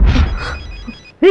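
A telephone rings during a tense Telugu action film climax, a sharp electronic trill heard once after a loud thud and followed by another abrupt loud hit at the end.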